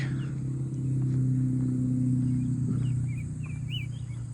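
Steady road traffic rumbles close by with strong low-frequency engine drone, swelling louder midway then easing slightly, while small birds chirp faintly over the top.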